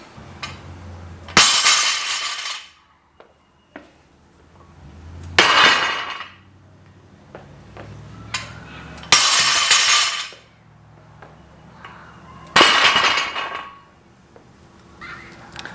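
Two barbells, a Chan bar and then an American Barbell Elite Power Bar, dropped in turn for a drop test, four loud metallic crashes with clanking rattle and ringing decay between them, close up.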